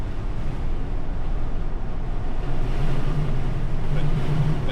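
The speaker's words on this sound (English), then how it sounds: "But definitely windy, as you can hear." Strong gusty wind blows beside a freshly paved road on an Alaska road trip toward Valdez, a steady loud rush buffeting the microphone throughout.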